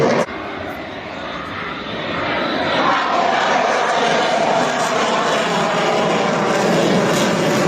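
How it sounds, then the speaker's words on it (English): Jet aircraft at an air show roars in full reheat as it rolls and launches, a loud, continuous broadband thunder that swells after a few seconds and holds steady throughout. "he rolls the aircraft down and then back into launching in full reheat"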